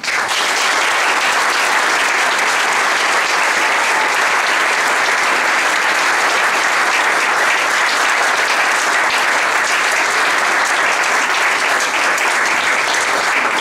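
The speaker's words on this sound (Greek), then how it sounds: "να σας ευχαριστήσουμε πάρα πολύ απλά, χαρίζοντάς σας ένα δυνατό χειροκρότημα" Loud, sustained applause from an audience filling a hall at the opening of classes for a Byzantine and traditional music school, steady and dense for the whole stretch with no voices on top.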